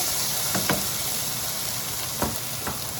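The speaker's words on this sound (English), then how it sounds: "I'm gonna go ahead and add in my peppers, my onions, and my garlic. And I'm just gonna heat this through" Peppers, onions and garlic sizzle in a pan on low heat, a steady close frying hiss with a few soft clinks of stirring.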